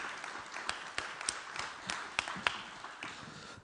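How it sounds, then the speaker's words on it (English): Applause from the audience at an EU-Moldova investment conference, a modest room's worth of scattered, fairly quiet clapping with individual sharp claps poking through, continuing steadily throughout. "Round of applause"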